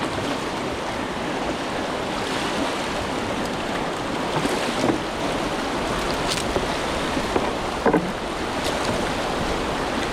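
Roaring whitewater from a river falls at high water surges steadily around a kayak, broadband rushing with brief splashes and knocks as it boofs over a drop, no voices.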